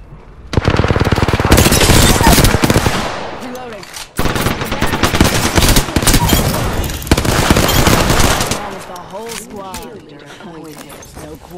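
Loud, close video game gunfire, with long sustained bursts of rapid machine-gun fire broken by a brief pause, then voices speak as the shooting fades.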